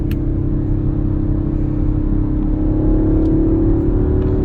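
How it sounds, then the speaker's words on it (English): A 2021 Audi RS5 Sportback Ascari Edition accelerates under load, its steady, loud engine drone rising slowly in pitch as it builds speed, with no voices heard. "Watch those gauges as the power boost kicks in. Downshift."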